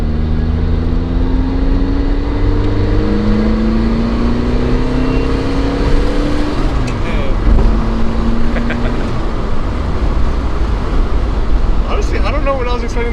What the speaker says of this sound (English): I don't know what I was expecting the turbo noise to sound like, but it still sounds pretty good.